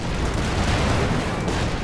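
Artillery fire in the World War II strategy game Company of Heroes 2, heard as a dense, continuous rumble of booms and blasts that stays loud for the whole stretch with no clear gaps.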